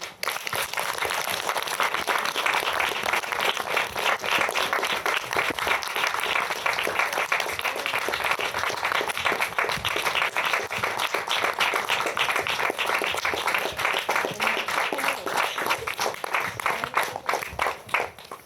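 A room of students applauds steadily, the dense clapping holding at an even, loud level from start to finish with no talk over it.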